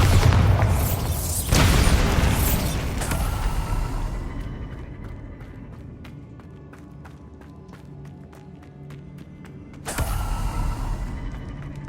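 Bombarda spell blasts in Hogwarts Legacy combat against Inferi: heavy booming explosions crowd the opening seconds, then quieter battle clatter and ticking hits follow before another loud blast lands near the end.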